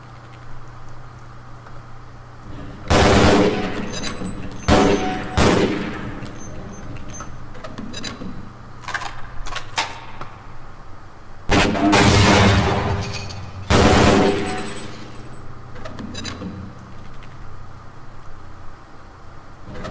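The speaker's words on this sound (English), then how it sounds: "To fire the grenade launcher, use the alternate fire button." Grenade launcher fire at a training target range in Half-Life Blue Shift, several loud booming launches and explosions in clusters separated by quieter stretches, with scattered metallic clatter between.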